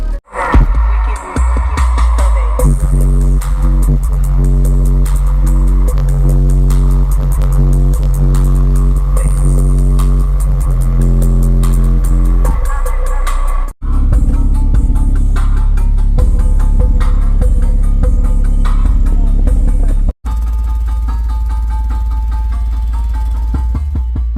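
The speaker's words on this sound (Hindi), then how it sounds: "गाड़ी बहुत ज़्यादा भड़बड़ कर रही है, हर चीज़ भड़बड़ कर रही है" A car fitted with an Ind dual 1200 RMS subwoofer and a 3000.1 mono amplifier, still without damping, plays very loud bass-heavy music that shakes and rattles the body. The music pulses continuously with two abrupt brief cutouts.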